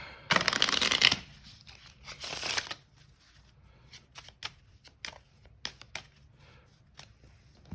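Decks of Magic: The Gathering cards being shuffled: two loud riffling bursts, then a run of softer, scattered card taps and flicks, recorded up close with no talking.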